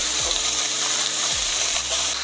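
Beef sizzles loudly and steadily in a wide pan, a constant hiss of browning with no talking.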